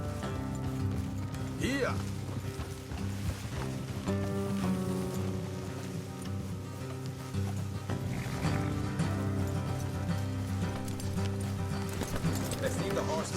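Horse hooves clip-clop on a dirt road in Red Dead Redemption 2, a steady rhythm under game music and ambience, with someone speaking briefly over it.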